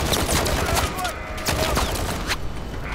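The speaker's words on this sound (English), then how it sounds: "Are they shooting from the behind or the front or what?" Gunfire in the shooter Call of Duty Modern Warfare III, a dense fusillade of sharp shots cracking at irregular intervals with continuous battle noise underneath.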